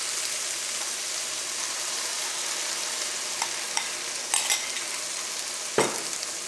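Boneless chicken fries and is stirred in a pan with tomato sauce for pasta: a steady close sizzle with a few scraping stir strokes near the end, and no voices.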